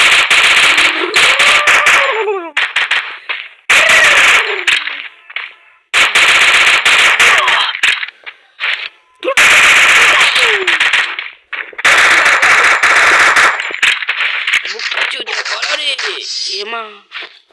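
Gunfire in a shooting video game: loud bursts of rapid automatic fire in several long volleys separated by short silences, with a voice talking over parts of it.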